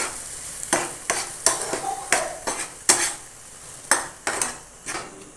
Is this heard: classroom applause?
no